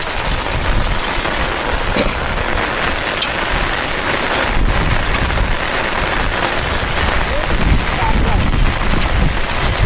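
Heavy rain pours down in a dense, loud, constant hiss with gusts of wind during village shrimp fishing, and a voice speaks briefly beneath the downpour.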